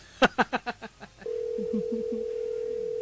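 After a quick series of clicks and tones as the receiver is picked up, a steady, continuous telephone dial tone hums on alone at moderate loudness for the rest of the moment.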